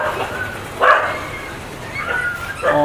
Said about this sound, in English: Look at the puppy, he's crying very much.